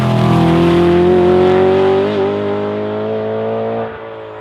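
A BMW E92 M3 track car, built for the Nürburgring Nordschleife, pulls hard under acceleration with a loud, rising engine note that eases off and drops away near the end.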